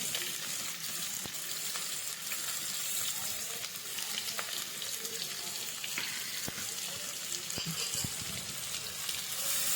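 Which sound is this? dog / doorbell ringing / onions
onions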